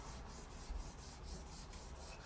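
Hand sanding wood with 240 grit sandpaper, a soft steady rhythmic rubbing with repeated back-and-forth strokes, faint and close, no voices.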